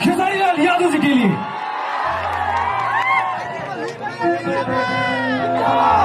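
A dense crowd at a Bhojpuri stage show roars and cheers loudly for Khesari Lal Yadav, with shouts and babble; a steady low hum runs underneath and a few voices rise above the din.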